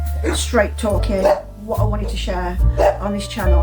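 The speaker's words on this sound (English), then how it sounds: "That's my dog's barking." A dog barks indoors from a nearby kitchen, its sharp yaps coming through under a person talking steadily throughout.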